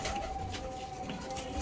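A pigeon coos close by in a short, low, steady call, with no voices around it.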